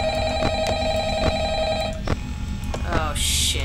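A telephone rings inside the horror video game Five Nights at Freddy's, a repeating electronic bell in steady bursts that fills the clip loudly, with game noise building toward the end.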